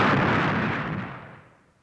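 Explosion effect in a 1982 Soviet radio play: a single loud, broad rumbling blast that starts at full strength and fades away over about two seconds, heard alone with no talk.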